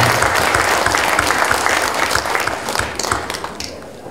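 Loud, sustained applause from a large audience at a Buddhist inauguration ceremony for a new supreme patriarch, many hands clapping together before it begins to thin out toward the end.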